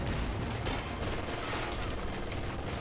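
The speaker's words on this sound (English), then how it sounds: "I have an MG bunker on it, and it's suppressed." Sustained, dense machine gun fire from an MG bunker in the World War II strategy game Company of Heroes 2, a continuous loud rattle of rapid shots with battle noise running through the whole stretch.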